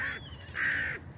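A crow caws twice, harsh and fairly close, among gulls and ducks gathered at the water's edge in St Petersburg, with no talk over it.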